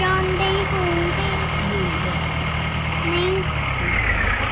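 A tractor engine idles steadily in a farming video game, a constant low rumble with tonal hums throughout, with no talk over it.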